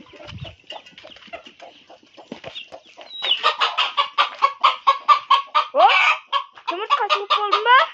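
Hens cluck repeatedly in a farmyard alongside a rooster, the calls starting softly and growing louder and denser into a rapid chatter of near clucks and squawks, with no talking over them.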